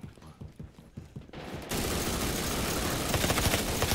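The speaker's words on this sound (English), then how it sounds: "this machine gun is so OP" Machine gun fire in the video game Resident Evil Re:Verse: a few scattered mechanical clicks and shots, then a sudden dense, sustained burst of rapid gunfire that stays loud and unbroken to the end, with no talk.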